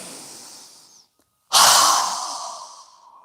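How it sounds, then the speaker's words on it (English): Breathing during a yoga exercise: a soft airy breath fades out, a brief pause follows, then a loud forceful rush of breath that slowly trails off, close and alone. "we're going to inhale through our nose and exhale with a strong breath with our mouth open wide"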